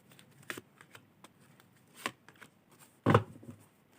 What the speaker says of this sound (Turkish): Şimdi öncelikle şöyle üçer tane kart seçeceğim.